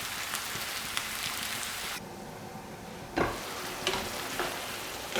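Vegetables for lasagna fry in a pan with a dense, close sizzle that drops quieter for about a second midway, then returns with sharp scraping knocks as they are stirred.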